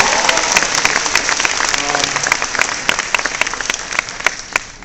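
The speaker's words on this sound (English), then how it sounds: "So give her a big round of applause" A forum audience at UIC gives a big round of applause for a woman, dense clapping that grows sharper toward the end with some crowd voices mixed in.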